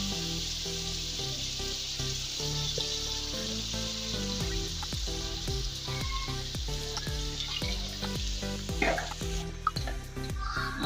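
Tomato paste hits hot oil in a pan for a lobia chicken curry and sizzles in a constant loud fry, with frequent scraping and clinking of a spoon stirring through it.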